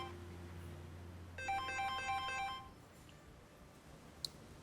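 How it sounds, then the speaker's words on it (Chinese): A telephone in a home rings with an electronic ringtone: a bright, regular pattern of tones lasting just over a second, moderately loud over a quiet room, then silence. "电话响了，还不接。"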